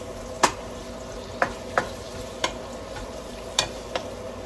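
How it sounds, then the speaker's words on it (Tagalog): Onion sautéing in a pan gives a soft, continuous sizzle, broken by several sharp clacks of a utensil stirring against the pan, close and with no talking. "Igisa-gisa nyo lang siya for a couple of minutes."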